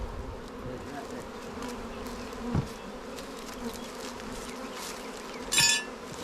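Honeybees swarm and buzz steadily throughout while a colony is cut out of a log, with two sharp clinks of tools partway through and a brief rustle near the end.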